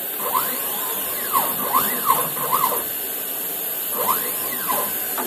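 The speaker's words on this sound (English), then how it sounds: "final step on this plate is just to counterbore these 8 holes from behind" A machine tool counterbores holes from behind in a steel injection mould plate, giving close, repeated whining sweeps as the cutter spins up and down between short gaps, over a steady motor hum.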